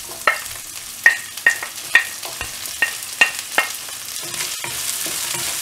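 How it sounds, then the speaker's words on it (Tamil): Onions sautéing with cumin in a pan, with a run of sharp stirring scrapes, about ten evenly spaced taps of a spatula over a soft, steady sizzle. "இப்போ வந்து இதில் வெங்காயத்தை போட்டு நல்லா வதக்கிக்கணும்."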